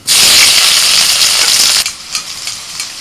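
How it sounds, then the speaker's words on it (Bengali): Whole spices tempering in hot mustard oil in a wok, a loud dense sizzle bursting in at once and holding steady, then dropping to a softer crackle with a few sharp spits near the end. "কড়াইতে সরষের তেল দিয়ে ওর মধ্যে ফোড়ন দিয়ে দিলাম"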